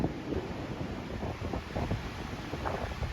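Strong wind buffets the microphone at night by Bournemouth pier during Storm Ciaran, with a steady rushing roar and storm waves churning underneath, loud and unbroken.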